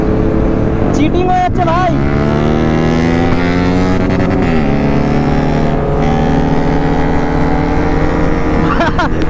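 A superbike races on an open road and its engine drones loudly as it slows under engine braking, the pitch falling and rising through gears over heavy wind rush. A voice speaks briefly over it.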